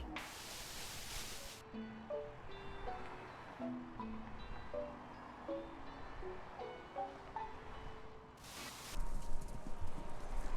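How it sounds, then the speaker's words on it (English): Rhythmic hoofbeats of racehorses galloping in a video game, Kentucky Route Zero, pound along with musical tones over them, bursts of noise at the start and end. "It sounds like horses running horses a race."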